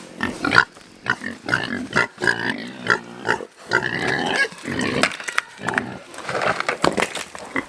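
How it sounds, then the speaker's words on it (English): Pigs of mixed ages in a farm pen, grunting, squealing and snorting loudly and close, in a rapid, irregular, continuous chorus of overlapping calls. "There's multiple age pigs in here, as you can see."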